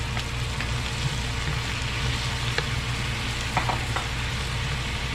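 Beef marinade juice sizzles steadily in a pan with sautéed onion and garlic for a Filipino bistek, a constant close frying hiss with faint scattered crackles and no talking.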